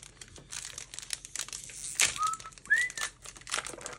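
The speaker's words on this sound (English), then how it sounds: "I've got a lot better at opening packs" A Pokemon card booster pack from a Violet elite trainer box being torn open, with crinkly foil rustling and a couple of brief squeaky tears over soft background noise.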